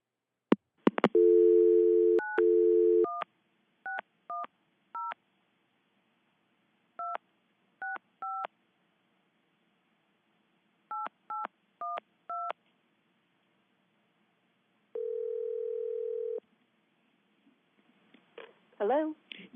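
Telephone dialing as a caller phones into a committee meeting: a dial tone, then clusters of short touch-tone beeps, a longer steady tone, and faint clicks at the end.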